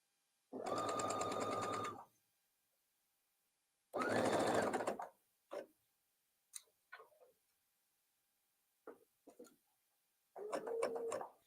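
A sewing machine stitches the inner leg seam of a stuffed memory bear, running in two steady bursts of a couple of seconds each, then a few short stuttering runs and a final burst, clear and close in a quiet room.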